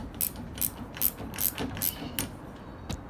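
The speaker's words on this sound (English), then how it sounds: "I'm going to take a 7/16 wrench or socket or something and you want to loosen up this bracket" A ratchet wrench turns to loosen a cable bracket on a Toro self-propelled mower, giving a quick run of about eight sharp clicking ratchet strokes, close and crisp in a quiet space.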